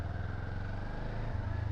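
A Kawasaki Ninja 400 KRT sport motorcycle engine runs with a steady, throbbing low drone, close and continuous, its pitch shifting slightly near the end.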